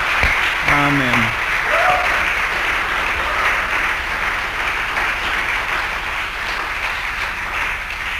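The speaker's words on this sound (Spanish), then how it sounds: "Vamos a darle un aplauso al Señor, amén." A church congregation applauds steadily in a sustained, broad wash of clapping that carries through the whole stretch, with a brief voice near the start over it.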